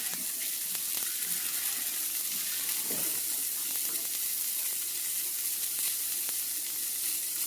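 Ground turkey burger patties sizzle steadily in a hot pan, a dense continuous frying hiss with faint crackles and a few small knocks, heard close and alone without talk.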